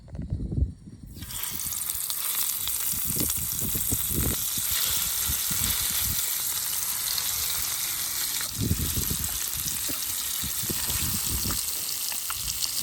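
Fish is dropped into hot oil in a village kitchen, setting off a loud, continuous frying sizzle that crackles and bubbles unevenly close by, with occasional low thuds.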